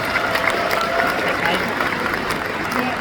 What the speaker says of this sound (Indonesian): Tepuk tangan untuk mereka yang urus paket A.